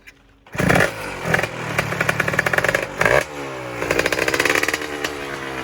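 A Kawasaki KX 85 dirt bike fitted with a 125 engine kicks and fires up, then settles into a loud, close two-stroke idle with rapid crackling pulses and small revs.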